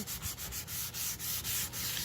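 Rhythmic sanding strokes on painted wood, a gritty scraping that repeats about every quarter second, close and steady with no voices.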